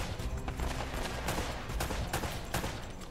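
Rapid gunfire in the video game Uncharted crackles in a close, dense burst of repeated shots with sharp individual cracks over a continuous rattling background.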